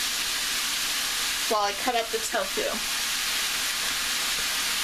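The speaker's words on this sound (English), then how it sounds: "Now I'm going to cover this and let it steam for a little bit" Steady hiss from vegetables steaming in a covered pan with black bean sauce, bok choy and turnip, continuing under a person talking in a home kitchen.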